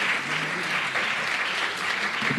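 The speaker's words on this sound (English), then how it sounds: "Another round of applause." An audience at the Pathways Kenya 2020 event claps in steady, sustained applause, a dense wash of hand claps from a sizable crowd heard at moderate distance with no talk.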